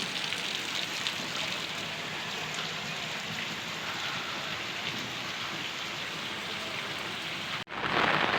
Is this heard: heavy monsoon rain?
yes